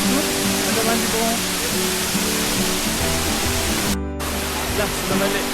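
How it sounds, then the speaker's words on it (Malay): The Ephrata waterfall in Sumatra makes a loud, steady broadband roar of rushing water that fills the whole clip, with faint voices and other sounds under it. "Air terjun Ephrata."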